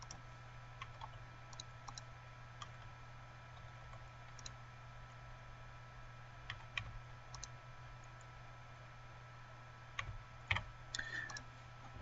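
Scattered soft key clicks from a computer keyboard as scores are entered, faint and irregular over a steady low hum, with a small cluster of taps near the end.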